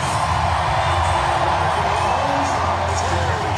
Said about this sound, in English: This crowd is amped up